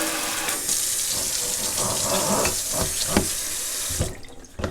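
Water streams steadily from a pull-out kitchen faucet with a spray attachment, a close, continuous splashing into the sink that cuts off near the end.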